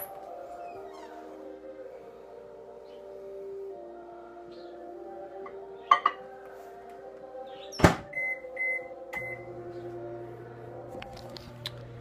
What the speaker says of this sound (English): egg and the tortilla in the microwave for 30 seconds